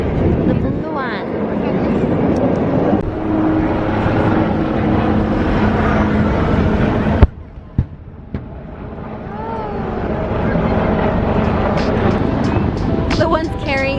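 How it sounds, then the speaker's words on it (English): A Blue Angels airplane at the Miramar airshow roars steadily in the distance while people talk loudly over it, then the noise briefly drops away before the broad engine sound swells again. "It's the Blue Angels plane right there."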